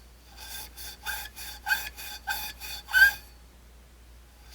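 A Scotch-Brite pad scrubs powder-coated metal in about eight even, rhythmic strokes, each a short abrasive swish, then stops.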